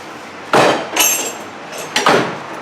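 Hammer tapping down on a 2010 Honda Accord hub nut to peen it over: four sharp metallic strikes in two pairs, close and loud, each with a brief ringing tail, no talking.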